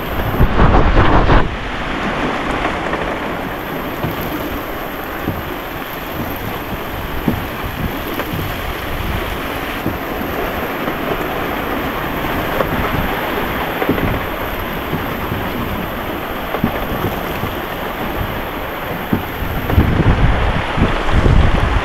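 Big storm waves pound a boat on the Pacific Ocean, with a loud, steady roar of wind and surging water and occasional heavier thuds and bursts, all without speech.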